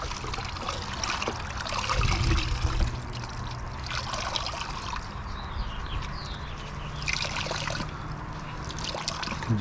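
A towel soaked in Feynlab Pure Rinseless V3 wash solution is wrung out by hand over a bucket, sending close, continuous trickling and splashing water into the pail, with a brief louder gush early on.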